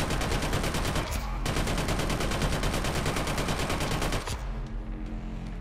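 Sustained rapid automatic fire from a weapon in the shooter Killzone Shadow Fall, loud and continuous with a brief dip partway, then fading into lower rumbling ambience near the end.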